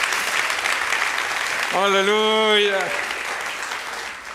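Church congregation applauding throughout, a broad steady wash of clapping with a single voice calling out briefly in the middle.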